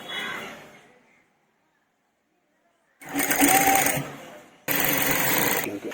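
Sewing machine stitching a tuck on a puff sleeve, a fast whirring burst that fades, then after a pause two loud sustained runs of rapid stitching.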